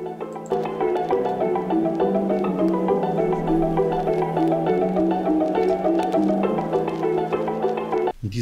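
A beat-making sample with wobble, distortion, space and magnetic effects runs as a sustained, loud, warbling tonal layer with a gritty hiss that holds steady for about eight seconds before cutting off.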